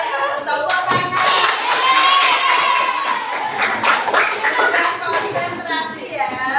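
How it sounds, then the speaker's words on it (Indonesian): A class of children clapping together in a dense, lively burst, hands striking in quick overlapping rhythm with crowd noise and voices mixed in throughout. "Tepuk tangan."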